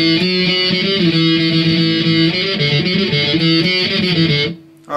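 A distorted electric guitar plays a song's intro, heavily overdriven chords ringing loud and close in a continuous pop-punk riff for about four and a half seconds before cutting off.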